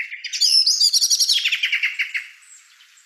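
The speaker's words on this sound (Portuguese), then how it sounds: "Temos aqui os palpites que é Melro." A common blackbird sings a clear, close phrase of fluting whistles followed by a run of rapid chirping notes that trail off quietly, with no other sounds around it.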